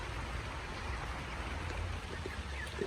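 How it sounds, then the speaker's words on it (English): Steady rain falls outdoors, a dense continuous hiss of drops spread evenly across the whole stretch with no talking. "You enjoying the rain, brother?"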